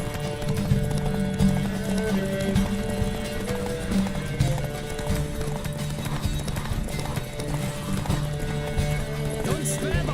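A horse gallops in The Witcher 3: Wild Hunt during a race, with steady rhythmic hoofbeats under sustained music and occasional whinnies.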